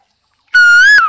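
A man imitates a koel's call with his voice: one loud, close, whistle-like note that holds steady and then rises slightly before breaking off, lasting about half a second after a short silence.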